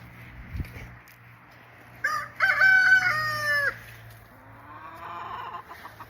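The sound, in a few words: chickens, rooster crowing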